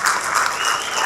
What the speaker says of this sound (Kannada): ಚಪ್ಪಾಳೆ ಶಿವಣ್ಣ ಅವರಿಗೆ